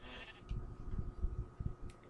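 Sheep in the video game Minecraft bleat in a few short, low, muffled calls, fairly quiet and spaced over a steady background hum, with no talking.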